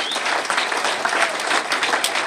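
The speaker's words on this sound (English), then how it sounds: "let's give a big round of applause to all the newcomers here tonight" A room full of people at a Narcotics Anonymous meeting applauds newcomers, a dense, steady wash of clapping with a few cheers that holds at even loudness throughout.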